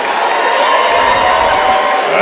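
A large crowd of Vienna fans roars and cheers steadily in a high school basketball gym at an IHSA regional game, a loud, dense wall of voices with whoops throughout, while an announcer talks over it.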